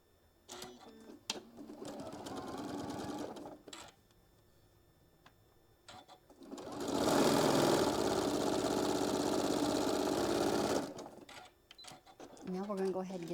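A sewing machine stitches across fabric pieces in a steady, close burst of rapid mechanical whirring lasting about four seconds, with quieter handling noises and a voice speaking before and after it.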